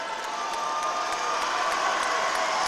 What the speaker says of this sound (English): That Peebles crowd is loud in the corner